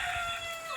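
A farm chicken in the Philippine countryside gives a brief, faint, high-pitched call, a quick rooster-like cry lasting under a second against soft background noise.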